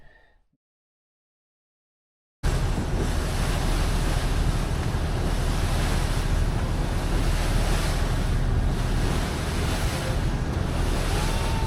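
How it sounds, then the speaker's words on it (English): Steady engine rumble and rushing water wash from a boat cruising on a river in Bangkok, with wind buffeting the microphone; silence for the first couple of seconds, then constant loud noise. "Sitting on the boat, cruising through Bangkok City."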